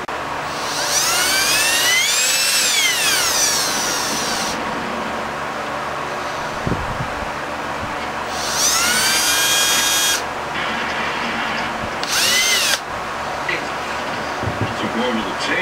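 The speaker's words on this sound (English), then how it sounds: "we're going to go ahead and drill a small pinhole in it." A high-pitched whining power drill drilling a small pinhole during work on an ECHO SRM-225 trimmer spins up in several bursts, rising and falling in pitch, with a voice speaking between runs.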